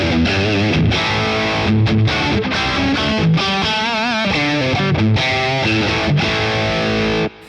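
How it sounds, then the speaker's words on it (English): Electric guitar played through a Boss Katana amp with its distortion effect, giving a thick, sustained, saturated tone. Chords and riffs ring out continuously and loudly for several seconds, then stop abruptly. "So if you want a more natural sort of distortion sound, if there is such a thing, you can bring your direct mix up."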